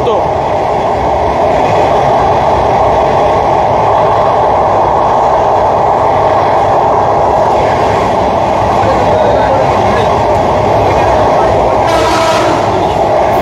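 The first train from Dhaka's Kamalapur station, bound for Bhanga, rolls across the Padma Bridge with a loud, steady rumble throughout and a brief brighter burst near the end, while a voice talks over it.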